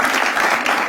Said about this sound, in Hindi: एक बार जोरदार तालियां हो जाए श्रेया प्रियम के जबरदस्त खेलने के लिए।